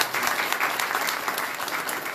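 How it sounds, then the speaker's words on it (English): A brief, steady round of clapping from an audience at a civic event in Montgomery, dense and close, with a faint voice underneath. "can we give them a round of applause?"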